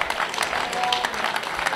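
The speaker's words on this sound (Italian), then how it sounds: "E parliamo di Enzo Divora, al quale direi di rivolgere un applauso veramente sentito." An audience applauding at a football club's official team presentation, a steady patter of clapping from a crowd that fills the moment without pause.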